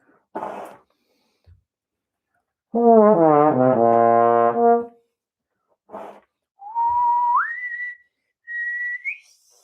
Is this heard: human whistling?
yes